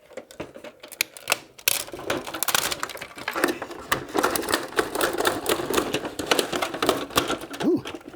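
A stubborn screw being worked out of a YORX boombox, heard as close, rapid irregular clicks and scraping ticks with a brief squeak near the end.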